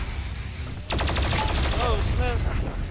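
BFG 10,000 firing in the video game Doom Eternal, a sudden loud, dense burst of rapid crackling blasts with whooshing, warbling tones, following a quieter rumbling background.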